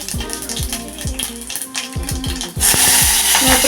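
Tempering spices drop into hot oil in a pressure cooker: a series of light metallic taps and clinks, then a sudden loud, bright sizzle that continues to the end.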